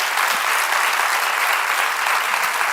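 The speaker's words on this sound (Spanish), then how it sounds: "Le dais un aplauso, por favor, a Elena Rosales." Applause from a studio audience greets a guest on a Spanish TV talk show, an even, continuous burst of many hands clapping at moderate volume throughout.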